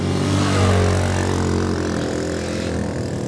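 A TAO TBR7 250cc dual sport motorcycle runs steadily while riding along, its single-cylinder engine drone loud and close, holding an even note in a low gear at modest speed with no voices.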